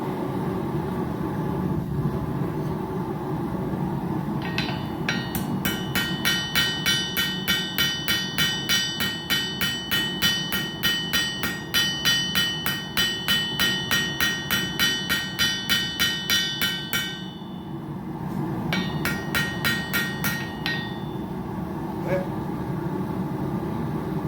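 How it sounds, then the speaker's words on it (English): A hammer strikes a titanium knife blade in a long, fast, regular series of sharp metallic blows, pausing briefly before a few more strikes, over a low background rumble. "I'm going to start working on the other side, hammering it back down"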